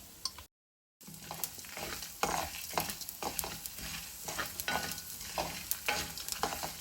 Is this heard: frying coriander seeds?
yes